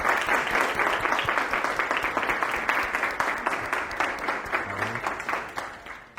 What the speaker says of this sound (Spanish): Así que les propongo un aplauso para ellos.